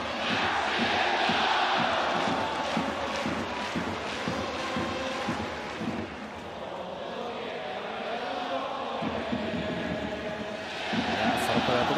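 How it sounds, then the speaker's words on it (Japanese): Baseball stadium crowd during a tense late-inning rally in a 2023 game, a dense roar with rhythmic clapping pulsing through it, swelling toward the end, with a commentator talking over it. "また手拍子が大きくなりました"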